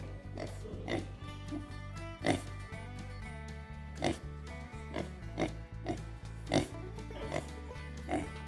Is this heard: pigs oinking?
yes